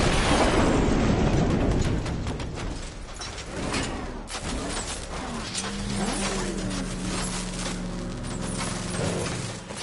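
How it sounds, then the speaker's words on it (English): The Batmobile's engine in the video game Batman: Arkham Knight revs and roars up close, mixed with heavy mechanical clanks and booms, then settles into a steady, sustained drone toward the end, with no talk. "I see you're back in the car, Master Bruce"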